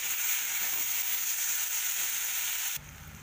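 Soybean chunks with masala and fried onion sizzle steadily in a hot pan, an even close-up hiss that drops sharply to a quieter fry near the end.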